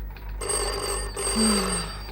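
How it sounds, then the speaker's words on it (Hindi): A telephone ringing indoors in an office, a bright electronic trill starting abruptly and repeating, close and fairly loud, with a voice briefly sounding underneath. "sir phone from mister Dalal"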